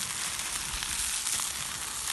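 A wagyu burger patty sizzling on a backyard barbecue grill, a loud, dense, even hiss and crackle heard up close without any talk.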